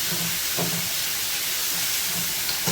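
Chana dal sizzles in a pan as it is sautéed: a continuous soft hiss with a few faint low stirring knocks, steady and close, no talking.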